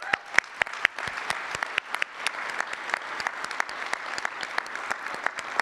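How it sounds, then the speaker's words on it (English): Audience applause at an annual community banquet, a room full of hands clapping steadily with sharp individual claps standing out, sustained and fairly loud throughout with no talk. "Let's give them all a round of applause."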